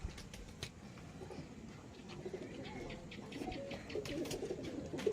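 A racing pigeon coos softly and faintly several times in a quiet courtyard, with occasional light taps and rustles around it.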